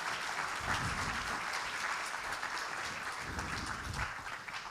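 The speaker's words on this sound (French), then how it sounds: "on peut peut-être les applaudir aussi, on les remercier." Applause from a conference audience at Scrum Day France 2011 fills the room as a steady, dense patter of many hands clapping. It sounds moderately distant and continues evenly throughout with no speech over it.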